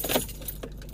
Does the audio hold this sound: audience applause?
no